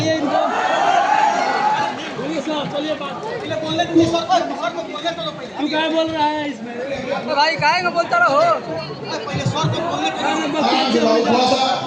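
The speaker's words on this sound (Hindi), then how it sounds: "थोड़ा भीड़ ज्यादा है तो थोड़ा आप लोग को दिक्कत हो रहा होगा।" A large crowd at a public event featuring a popular teacher in Champaran, dense overlapping chatter and shouting throughout, with voices close by speaking over the loud hubbub.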